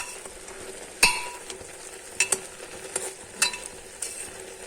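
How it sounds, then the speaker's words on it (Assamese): A spoon stirs papaya halwa as it cooks and dries in a pan on a gas stove, giving faint, soft scraping strokes at irregular intervals over a quiet background. "এইখিনি এতিয়া অকণমান আমি গেছত বহাই এনেকৈ লাৰি থাকিব লাগিব"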